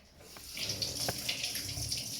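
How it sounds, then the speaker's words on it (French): Tap water runs steadily into a sink while hands are rinsed and a kitchen knife is washed, with a few light clinks and splashes close by; no one speaks. "je viens me rincer les mains et laver le couteau"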